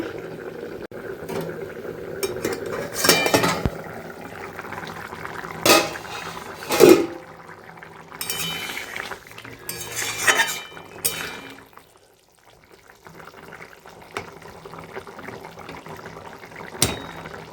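Water poured into a cooking pot of boiling potatoes, a close splashing fill followed by bubbling and the clink of pot and utensils, then a quieter stretch.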